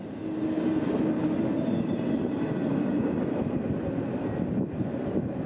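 CSX freight train led by an AC-44CW diesel locomotive rumbles past in central Georgia, a steady loud roar of rolling wagons with a faint clatter, continuous and close throughout.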